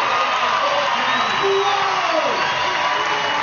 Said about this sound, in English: the crowd enjoying every minute of it